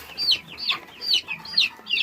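Chickens cluck in a steady run of about five short, bright calls, fairly close, with little else around them.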